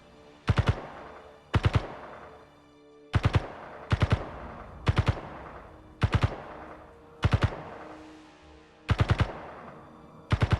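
Video game gunfire in short, sharp bursts of two or three rounds, repeated about nine times at uneven intervals, loud and close with brief decaying tails between bursts.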